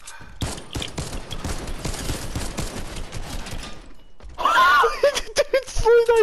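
Rapid bursts of gunfire in the video game Fortnite crackle densely for about four seconds, loud and continuous, then give way to other game effects while players talk over the action.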